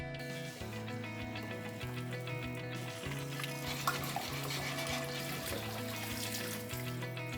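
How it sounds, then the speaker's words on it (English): Running tap water pours steadily over spaghetti being rinsed and gently rubbed, a continuous close splashing trickle with soft stirring movements and no talk. "Rinse the spaghetti under running water, rubbing them gently"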